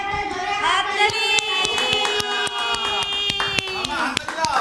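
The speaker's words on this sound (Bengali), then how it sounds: "সবাই একটা জোরে হাততালি।" Steady rhythmic hand clapping by people at a home New Year celebration, sharp and close, running under sustained voices singing or calling throughout.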